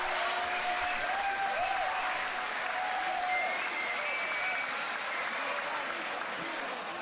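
Audience at a beatbox battle applauds and cheers in a standing ovation, with dense continuous clapping, whistles and shouts from a large crowd.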